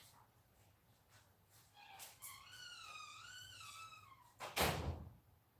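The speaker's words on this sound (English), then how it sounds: "Let me close this door." A door swings shut in an archery shop: a drawn-out creaking hinge squeal, then one solid, fairly loud thud as it closes.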